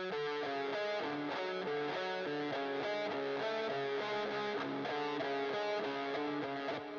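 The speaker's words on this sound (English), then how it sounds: "I actually played the lead on my guitar originally" Distorted electric guitar plays a metal lead line, a rapid, rhythmic riff of repeated picked notes continuing steadily and loud throughout, with no voices.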